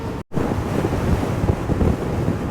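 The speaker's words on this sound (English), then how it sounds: "there's some annoying wind here that's pushing me around a little bit here" Strong wind buffets the microphone during a motorcycle ride on a Patton, a loud, steady rushing roar with one brief dropout near the start.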